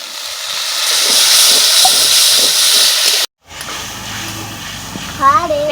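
Water poured into a pan of hot spices with salt and turmeric sizzles and hisses loudly and steadily, then cuts off briefly before bubbling resumes, with someone speaking over it.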